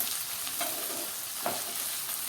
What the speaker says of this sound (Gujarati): બે મિનિટ આપણે આ રીતે ગેસ ઉપર સીજવા દઈએ ધીમા તાપ પર